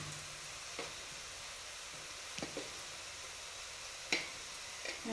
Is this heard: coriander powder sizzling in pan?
yes